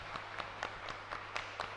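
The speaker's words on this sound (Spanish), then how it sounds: "Fuerte aplauso entonces para toda nuestra comunidad" A church congregation at Mass applauding, a steady patter of claps from a crowd filling the space, moderately loud over a low background hum.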